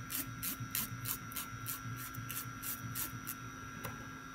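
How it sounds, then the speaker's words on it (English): A nail file scrapes at a 90-degree angle across a Jamberry nail wrap until it peels, a quick run of short, evenly spaced rasping strokes, faint and close, over a low steady background hum. "I'm going to just go down and file at a 90 degree angle till that nail wrap"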